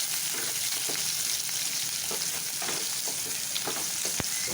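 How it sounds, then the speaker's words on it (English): Onion being stirred in a hot pan for a cabbage sabji, a steady broadband sizzle running throughout with faint scraping stir clicks scattered across it and no voices. "I put the onion, stir it"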